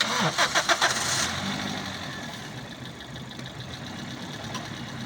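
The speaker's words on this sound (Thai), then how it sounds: "ดูนะครับฟังเสียงเครื่องนะครับ" A 2010 Toyota Altis 1.6-litre CNG car engine cranks with a few quick stutters, catches, and settles into a steady idle.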